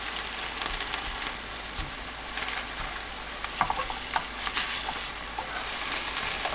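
Cod fillet sizzling in a frying pan, a steady broadband crackle with occasional sharper pops and spits, close and moderately loud throughout with no talking.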